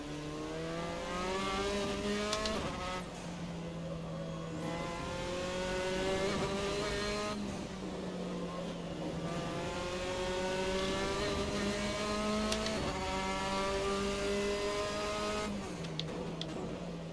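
Formula 4 race cars at Okayama in Assetto Corsa, engines whining steadily as they rev up through the gears and shift repeatedly, a continuous loud drone with rising pitch sweeps and no talk.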